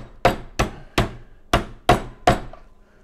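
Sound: pounding top sirloin with meat tenderizer

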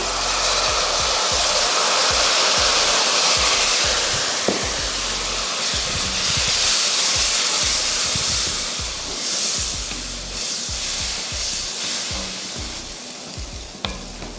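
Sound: tamarind water added to hot spice mix, sizzling

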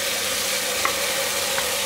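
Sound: tomatoes added to sizzling keema in hot pan

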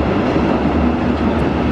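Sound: freight train wagons passing

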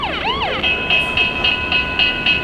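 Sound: model railroad crossing bell sound effect

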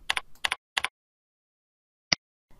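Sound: typing a search on a computer keyboard

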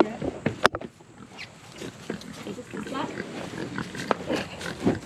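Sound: pig grunting

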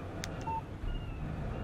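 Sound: phone text message alert in Alan Wake Remastered video game

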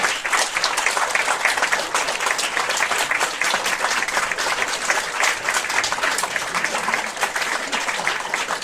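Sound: audience applause for children after a dance concert

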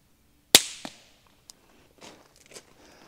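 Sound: suppressed B&T VP9 pistol shot

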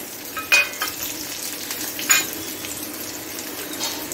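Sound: onion, green chillies and curry leaves sizzling while stirred

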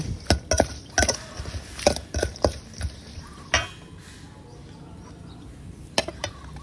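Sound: mixing salad ingredients in a bowl

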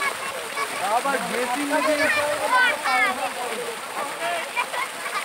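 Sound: water gushing from borewell pump outlet

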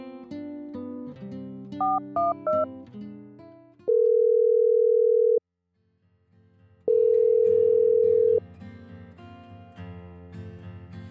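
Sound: phone call ringing

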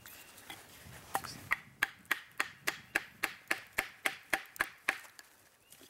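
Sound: batoning a knife into wood with a baton

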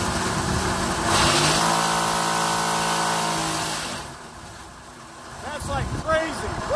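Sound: wash plant machine running at 7,000 RPM

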